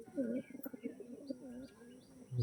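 Home-bred flying pigeons coo and murmur nearby in short warbling bursts, with faint chirps from other birds in the background.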